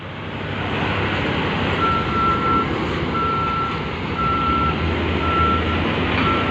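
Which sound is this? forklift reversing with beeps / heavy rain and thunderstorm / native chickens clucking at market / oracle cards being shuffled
forklift reversing with beeps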